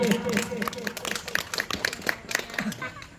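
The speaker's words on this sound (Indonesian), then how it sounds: "tepuk tangan untuk Salma." Scattered clapping from an audience at a children's preacher contest in a mosque, short irregular claps heard under someone talking over them.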